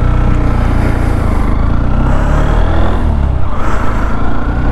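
A Honda Xblade ABS motorcycle engine hums loud and close while riding, a steady dense drone with a slight swell in pitch midway and no pauses.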